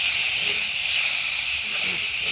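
Dried fish and garlic fry in a pan, giving a steady, close, high sizzling hiss that continues unbroken, with no clear talk.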